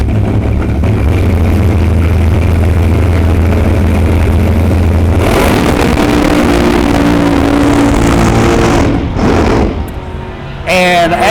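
Drag racing cars launching down the strip in a first-round Alki Digger B field race, with a loud sustained engine roar that shifts to a higher, harsher pitch midway, then a brief dip and renewed revving near the end.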